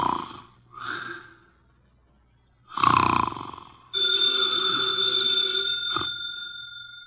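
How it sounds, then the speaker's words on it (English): A heavyset man snores through his nose, two nasal snorts followed by a longer, louder rasping breath, and then a steady telephone bell rings nearby. "he's making sounds through his nose"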